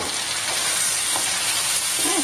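Fried mogo (cassava) is tipped into a pan of sizzling chilli sauce, and a steady loud frying hiss fills the clip with faint stirring scrapes under it.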